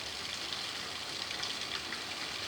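A heavy downpour of rain in Portsmouth, Hampshire hisses as an even, unbroken wash of falling water, constant and fairly close, with no talking.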